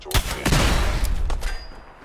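Missile-firing gunfire in the Fallout 4 video game, with a sharp shot followed by a burst of heavy booming blasts and rumbling tails, loud and close.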